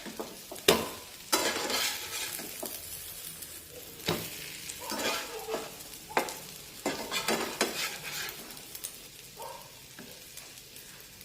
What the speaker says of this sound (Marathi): हे पहा दोन्ही बाजूने छानपैकी हे फ्राय झालेले आहे